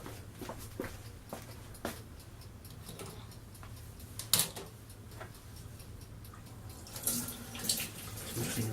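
Water being added to flour for the cross paste on hot cross buns, a faint trickle in a quiet kitchen with scattered small clicks and taps.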